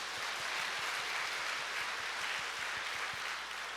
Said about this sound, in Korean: 동산의 가족이 되신 분들께 마음을 담아 박수로 환영하겠습니다